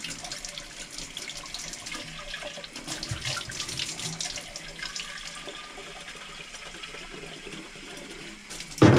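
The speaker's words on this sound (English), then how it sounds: "I'm going to fill this up with water" Water from a tap runs into a paint bucket in a paint shop, a steady splashing gush that fills the whole stretch at close range, ending with a brief louder knock.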